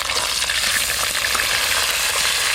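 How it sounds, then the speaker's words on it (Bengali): Potatoes frying in hot mustard oil, a loud, dense, continuous sizzle and crackle filling the whole moment with no pause, close by. "সর্ষের তেল, তেল গরম হয়ে গেছে, এবার আলুগুলো ভেজে নেব।"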